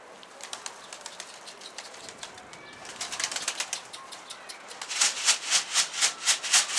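A Baska pigeon flying in with wings flapping outdoors: faint rustling and scattered wingbeats build into a run of loud, rhythmic flaps close by, with no talking.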